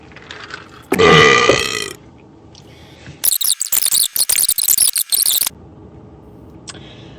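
A loud, drawn-out close burp lasts about a second, then a burst of squeaky, squealing mouth noises follows and fades into quiet room tone.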